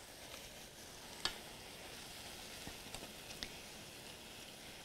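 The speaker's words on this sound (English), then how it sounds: "supposed to saute a little bit longer" Vegetables and mushrooms sautéing in a pan, a quiet, even sizzle with a few faint clicks of a utensil, no voices.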